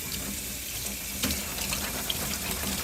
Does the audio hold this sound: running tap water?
yes